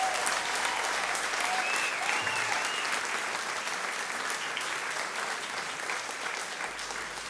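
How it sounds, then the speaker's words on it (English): A standing ovation sound effect plays: a dense, sustained crowd applause of many clapping hands, loud and even throughout with no pauses and no talk. "I give this a standing ovation."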